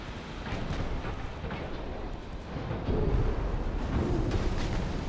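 Deep, rumbling explosions from torpedo hits on an enemy warship in the naval game Ultimate Admiral: Dreadnoughts roll continuously under a dense low roar, with a heavier swell of blasts near the end and no voices.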